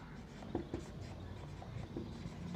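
Faint scratching strokes of writing on a board during a Class 12 physics lecture on electrostatics, a few soft marks in a quiet room.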